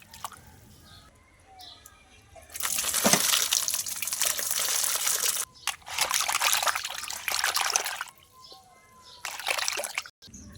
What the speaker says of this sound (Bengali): মাছ ধুয়ে নিচ্ছি বন্ধুরা, দেখতে থাকো।